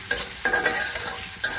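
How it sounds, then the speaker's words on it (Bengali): Chopped onion and garlic fry in a pan, a steady close sizzle broken by a few scraping stirs from a utensil. "আর এই যে হচ্ছে এদিকে পেঁয়াজ রসুন ভাজতে দিয়ে দিচ্ছি।"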